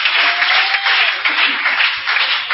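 A church seminar congregation bursts into dense, loud applause, continuous clapping with cheering that stays strong for the whole stretch.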